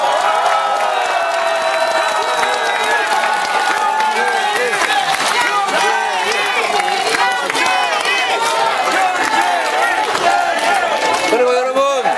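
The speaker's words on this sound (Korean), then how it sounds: "큰 격려 박수 부탁드립니다" A large crowd at a Korean Democratic Party political rally applauds and cheers loudly and without pause, with whoops and shouts over steady clapping throughout.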